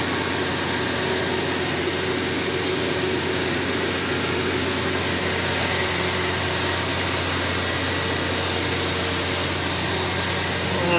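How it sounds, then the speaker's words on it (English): A forklift engine with no breather and no carburetor, running with blow-by, giving a steady, loud, unbroken mechanical roar and hiss that holds constant throughout with no talking. "this engine, guys, installed in the forklift"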